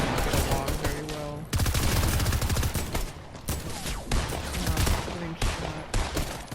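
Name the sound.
gunfire in a video game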